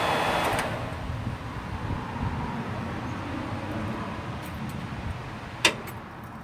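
Vintage Air heater and defroster blower fan running in a Toyota FJ40, a steady broadband whoosh of rushing air holding near and constant throughout, with a single brief click near the end.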